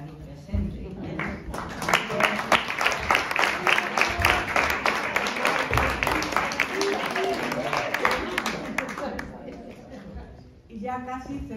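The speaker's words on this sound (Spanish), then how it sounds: "Un aplauso también para la autora de Pardo Bazán" An audience at a women's literary evening applauds an author present at the event, a dense burst of clapping lasting several seconds that swells, holds steady, then fades out before a voice resumes.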